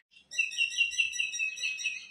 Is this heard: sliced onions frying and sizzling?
no